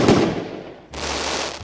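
Virtual firecrackers burst in a Tamil fireworks gameplay session: one sharp blast that fades, then a second loud crackling burst near the end, with no one talking.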